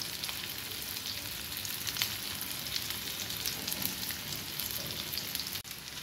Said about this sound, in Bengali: তেল ছিটকিয়ে পড়তেছে